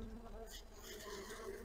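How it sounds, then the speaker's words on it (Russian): Honey bees disturbed during a hive inspection give off a faint, steady buzzing hum, close by and unbroken for the short moment. "Ходит, потревожил пчелок."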